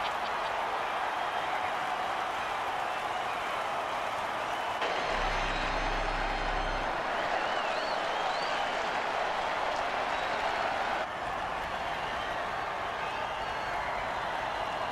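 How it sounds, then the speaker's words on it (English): Stadium crowd at a football game roars and applauds in a steady, dense wash of cheering that holds throughout, with a brief low thump partway and a slight drop near the end; no clear talk over it. "And the crowd goes wild!"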